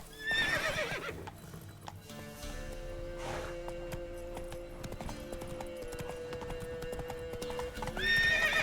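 A horse's hooves clop in a steady walking rhythm in the video game The Witcher 3: Wild Hunt, with a whinny near the start and another at the end.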